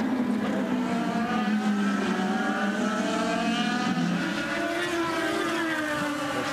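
IndyCar race cars at the Honda Indy Grand Prix of Alabama roar continuously along the track, with engine pitch rising and falling through acceleration and braking, loud and sustained throughout.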